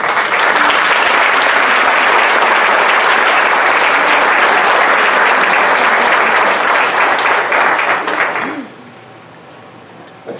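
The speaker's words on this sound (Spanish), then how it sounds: "Un aplauso." Loud, dense applause from a large audience at the inauguration of an international nursing congress at a hospital, steady for about eight seconds before fading out abruptly.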